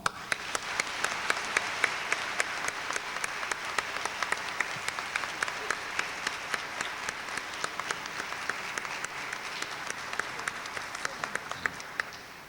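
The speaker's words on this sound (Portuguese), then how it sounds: "uma salva de palmas." Sustained applause from an audience at a national constitutional law conference, a steady wash of many hands clapping that swells and fades over about twelve seconds, no talk.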